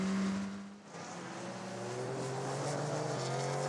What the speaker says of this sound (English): Here comes the Porsche.